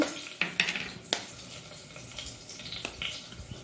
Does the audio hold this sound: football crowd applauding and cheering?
no